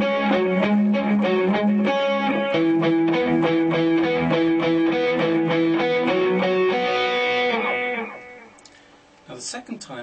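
A distorted electric guitar plays a riff, a steady rhythmic run of fuzzy picked notes that ends abruptly near the close, leaving a faint scrape.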